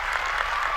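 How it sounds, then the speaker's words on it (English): Audience applause at a Munk Debate, a brief, steady wash of clapping from a large crowd with no pauses or voices. "his time is up, so they just keep clapping"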